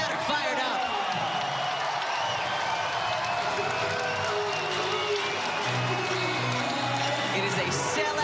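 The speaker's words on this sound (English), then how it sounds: "this crowd are fired up" A sellout college basketball crowd on the hilltop roars after back-to-back three-pointers in Gonzaga at San Francisco, a loud, continuous cheer and clapping under excited play-by-play commentary.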